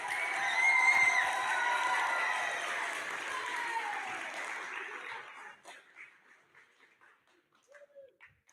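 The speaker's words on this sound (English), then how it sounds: "Let's go ahead and give them another round of applause." An audience at a school showcase applauds young performers, a dense wash of clapping that swells and then thins out to scattered claps, with faint voices as it fades.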